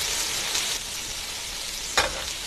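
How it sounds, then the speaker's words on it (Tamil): Ingredients sautéing in a pan, a steady, fairly quiet frying hiss with one brief louder scrape or stir partway through, and no talking. "என்னென்னமோ போட்டு வதக்குறாளே"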